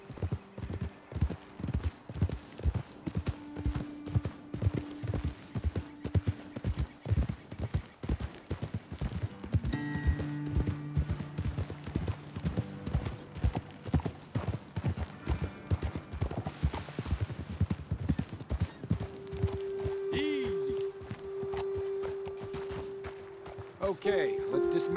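Rapid hoofbeats of several horses galloping in Red Dead Redemption 2, clip-clopping at speed, close and steady throughout, with occasional whinnies and voices talking over the rhythm.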